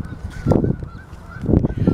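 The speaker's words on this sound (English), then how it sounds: "And you can hear all the geese here today." Geese honk in loud repeated bursts close by, in two clusters of calls over a low background murmur, with no speech.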